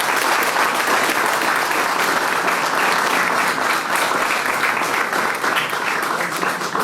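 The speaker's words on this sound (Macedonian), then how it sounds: "Ќе ве замолам за уште еден аплауз за Никола" Sustained audience applause at a regional sports awards ceremony honoring the athlete of the year, a dense steady clapping from a full hall that stays loud and continuous throughout.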